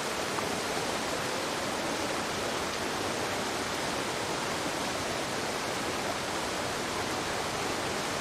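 A waterfall in a video game rushes in a dense, unbroken roar that stays even and steady throughout with no voices.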